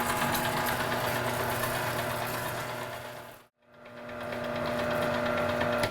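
Electric meat grinder running steadily, pushing bratwurst sausage meat through a 1/8 inch plate, a constant close motor whine that cuts out briefly near the middle before starting again.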